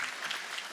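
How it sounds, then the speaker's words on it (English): Crowd at a university athletic performance center unveiling ceremony gives a brief burst of applause, a soft, fairly distant patter of many hands with no voices. "Is that worth a round of applause itself?"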